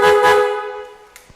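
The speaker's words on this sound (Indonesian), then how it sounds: "Sekarang kita beralih ke klakson." A motorcycle horn is tested on an all-black CB motorcycle with gold-leaf accents. It gives a single loud, steady honk of about a second that fades out, followed by a couple of faint clicks.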